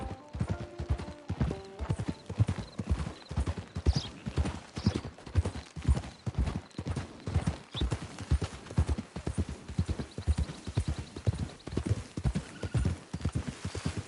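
Horse hooves clip-clopping in Red Dead Redemption 2, a steady, close, rhythmic trot of sharp hoof strikes throughout, with a brief whinny near the start.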